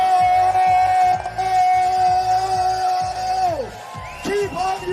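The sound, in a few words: crowd cheering and yelling at FIRST Global Challenge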